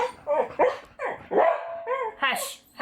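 A dog barks excitedly at someone walking past outside, several sharp close barks and yips in quick bursts, with a person talking between them.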